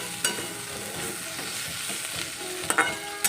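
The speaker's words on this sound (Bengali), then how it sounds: "এখানে পেঁয়াজ কলিটাও ভাজা অনেকটা হয়ে এসছে" Fish and spring onion greens with turmeric fry in a pan with a soft, steady sizzle, broken by a few sharp clinks and scrapes of stirring up close.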